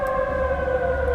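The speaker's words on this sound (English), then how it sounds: "Their siren is meant to annoy you." A civil defense warning siren sounding in Kuwait holds a single steady, loud wailing tone throughout this brief moment, with no speech over it.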